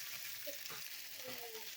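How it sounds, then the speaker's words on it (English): Beef for stroganoff is stirred with a spoon in a hot pan, giving a soft continuous sizzle with a few faint scraping strokes. "We will stir our meat a little bit."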